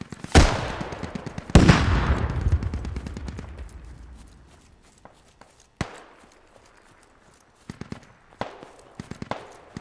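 Incoming enemy gunfire in a war video game: two loud near shots with long echoing decay, then scattered sharp cracks and short rattling bursts further off, no talk.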